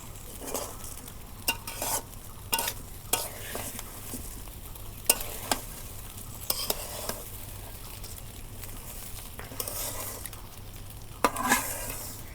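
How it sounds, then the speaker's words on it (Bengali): Rice and Eid sacrifice beef being stirred and fried together in a pot over a clay stove for biryani, with a steady low sizzle and repeated sharp scraping clicks of the spoon against the pot. "চালগুনা আমি ভালো করে এই দেখো মিক্স করে নিয়ে ভাজা নিলাম"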